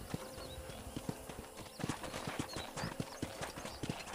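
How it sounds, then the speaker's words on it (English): Horse hooves clip-clopping at a steady walking rhythm in the Red Dead Redemption video game on a ranch, close and clear, with soft game ambience and birdsong-like chirps behind them. "I picked out a fine horse for you."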